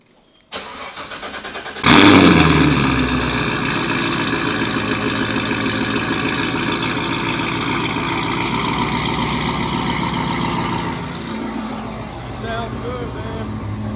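A 2014-19 Chevrolet Corvette C7 Z06 fires up with a loud starter burst and roar, then settles into a steady, slightly choppy idle that drops lower near the end, heard up close with people talking nearby.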